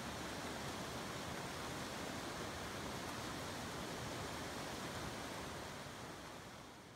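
A fast, powerful river rushes steadily in Ecuador, its broad roar of churning water holding at a constant loudness from start to finish with no voices heard.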